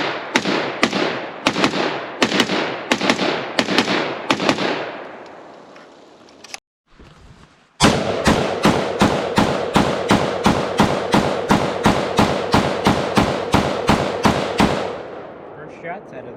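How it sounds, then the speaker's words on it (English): A T91 Tactical rifle fired at an outdoor range, loud sharp reports in a quick steady string, then a brief pause and a long, evenly spaced volley of shots, each ringing out nearby. "First shots out of the T91 Tactical."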